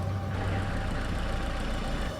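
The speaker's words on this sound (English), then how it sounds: "Hey, kill the engine. You can see our exhaust." A car engine idles with a steady, low, even rumble that continues without a break throughout.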